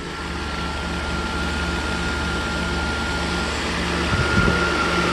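Mercedes W140 S600 coupe V12 idling, a smooth low steady hum with a faint even pulse, heard from outside the car on a quiet street.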